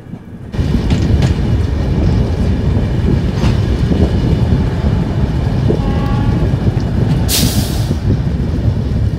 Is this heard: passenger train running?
yes